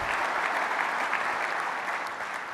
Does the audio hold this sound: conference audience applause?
yes